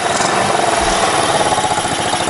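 A GY6 engine swapped into a Honda Ruckus scooter runs steadily and close, a continuous buzzing drone with a slight rev that holds level throughout.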